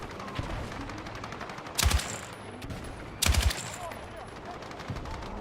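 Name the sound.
sniper gunfire in the video game Battlefield 6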